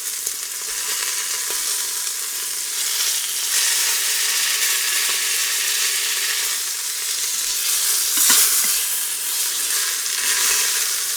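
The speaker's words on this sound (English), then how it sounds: "now I'm going to kind of press this meat down and just make sure it's getting that crust on every side" Chunks of beef for stew sear in a hot pot, pressed down to brown on every side, giving a steady, loud sizzle and frying hiss that swells now and then with stirring, with no talking.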